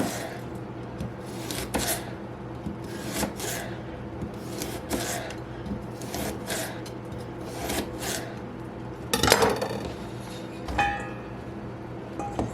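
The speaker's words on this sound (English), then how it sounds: "I'm going to try and cut these all as even as possible here" A knife slices cauliflower and carrots on a cutting board, repeated short rasping cuts at an uneven pace, close and fairly quiet, with an occasional soft clink.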